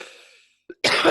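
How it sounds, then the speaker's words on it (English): A single sharp cough rings out close to the mic, followed by a loud burst of harsher coughing or throat noise, with no talking. "This is terrible with my coughing,"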